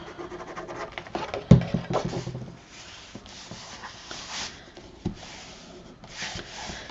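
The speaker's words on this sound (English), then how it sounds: "I'm just burnishing with my fingers" Fingers burnish paper on a handmade holiday mini album, soft close rubbing and scratching strokes in uneven short passes, with a few light taps.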